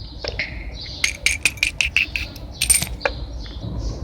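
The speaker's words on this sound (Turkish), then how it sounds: "Çok güzel kuş sesleri var." Outdoor ambience with a run of bright, sharp chirps from nearby birds, bursts repeating over a steady low background hum.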